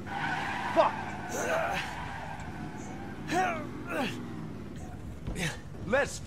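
A car in the Resident Evil 7 game skids with squealing tires in repeated sweeping screeches, mixed with engine noise and chaotic in-game sounds.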